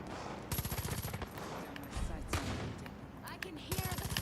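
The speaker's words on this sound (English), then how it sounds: "take out Herc so that he'll stop fucking firing that goddamn rocket launcher" Rapid bursts of automatic gunfire from the Far Cry 5 video game, several clustered volleys of sharp repeated shots over steady battle noise, fairly close and loud.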